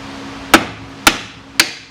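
Three sharp, evenly spaced hammer blows ring out against the front strut of a 2008 Pontiac Grand Prix during a suspension repair, each a loud metallic clank with a short decay, no talking.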